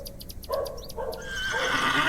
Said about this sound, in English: Is that your horse stationed in the alley?